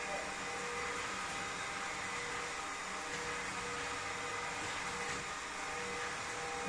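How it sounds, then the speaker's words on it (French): A Redkey W12 floor cleaner runs in suction-only mode, giving a steady, fairly loud whooshing drone that holds without change throughout, with no talk over it. "j'ai mis juste en mode aspiration"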